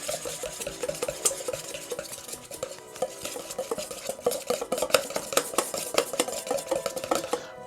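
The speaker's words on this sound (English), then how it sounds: "Now we're gonna whisk this until it's fluffy." A keto eggnog mixture of egg yolks is hand whisked in a bowl, producing rapid close metallic clinks and scrapes that quicken into a dense, continuous rattle, with no talking.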